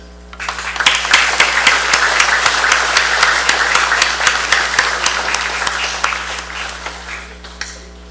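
Warm applause from the assembly at the opening of the 24th Congress of the Federated States of Micronesia greets the temporary speaker, with many distinct hand claps over a dense steady clatter that swells early and slowly fades.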